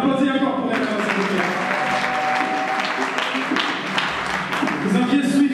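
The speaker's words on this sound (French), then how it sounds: "On applaudit encore pour Émérance." An audience at a slam poetry show in Bukavu applauds for the performer Émérance, loud sustained clapping with a few crowd voices and a talking host mixed in.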